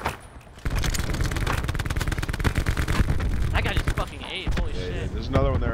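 Call of Duty Blackout battle with a dense, rapid crackle of gunfire and explosive bursts, loud and continuous, mixed with game effects.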